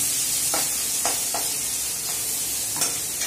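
Onions frying to a light golden-red in a pan, a dense continuous sizzle broken by several short stirring scrapes at uneven intervals, close and fairly loud, no voices.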